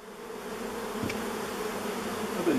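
Bees buzzing steadily around an old beehive left unopened for over thirty years, a continuous close drone with no talk.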